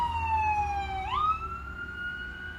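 A fire truck siren wails loudly and close by, its tone sliding down sharply as it passes and then holding a lower steady pitch over a low road rumble.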